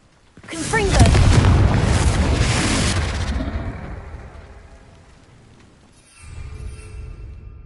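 The Confringo fire spell in Hogwarts Legacy blasts into a heavy booming explosion with rushing, crackling debris that fades over several seconds, followed by a quieter magical shimmer.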